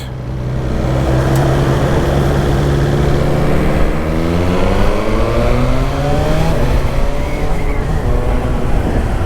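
A 2019 BMW S1000XR motorcycle engine revs loudly and steadily near the listener, its pitch rising through several climbing sweeps with no talk over it.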